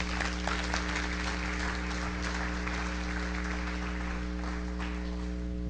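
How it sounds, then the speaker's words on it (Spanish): A church congregation applauds in praise of the Lord during a sermon on healing: a steady, dense wash of clapping that holds evenly for several seconds over a low electrical hum. "Dale un aplauso al Señor."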